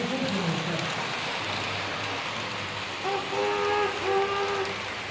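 A model railway train runs along a layout at an exhibition in Rafelbunyol, a steady rolling rumble with a faint rhythmic clatter under a noisy hall, brief whistle-like tones rising partway through.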